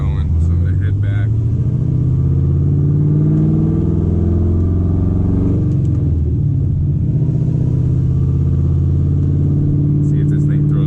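Loud, close engine rumble from inside a Corvette driven with a blinking check engine light, with steady low drone, shifting revs and a brief dip midway, under talking.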